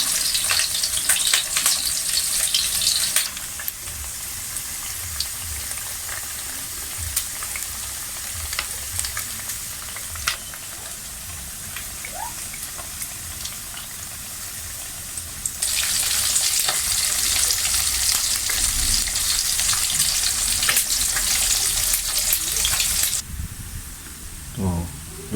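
Sisig frying in an iron pan, a continuous loud sizzle and hiss that swells louder in two stretches, with occasional faint scraping from stirring and no voices.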